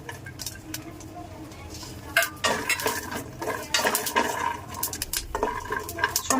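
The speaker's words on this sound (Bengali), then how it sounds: "আগে মরিচগুলো ভেজে নেব" Chilies and garlic frying in a pan with a soft, steady sizzle, broken by frequent clinks and scrapes of a metal utensil stirring, close up.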